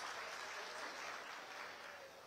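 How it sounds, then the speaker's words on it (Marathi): Audience clapping at a political speech in Maharashtra, a steady dense wash of applause from a crowd that holds for the whole stretch and eases slightly toward the end. "सगळ्याला मान्य असेल तर एकदा टाळ्या वाजवून फक्त सांगा मान्य करा."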